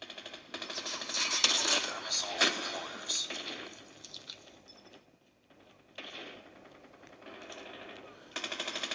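Gunfire from Call of Duty multiplayer, rapid crackling bursts in clustered volleys with a short lull before firing resumes, mixed with game noise.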